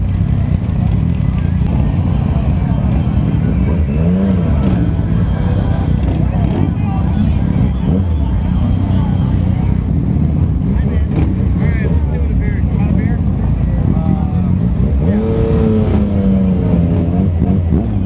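Two Yamaha FZ-09/MT-09 motorcycles fitted with Arrow and Akrapovic exhausts ride through a bike night party, their steady loud engine drone filling the scene with rising and falling rev tones, while riders talk over it.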